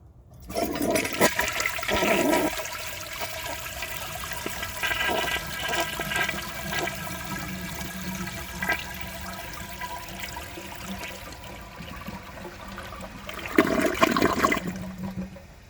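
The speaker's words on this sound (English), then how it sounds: "Now let's see how it flushes with a clogged siphon jet." A 1987 Kilgore Aladdin toilet with a clogged siphon jet flushes close by, with a loud surging rush of water, a long gurgling drain and refill trickle, then a second swell of water near the end.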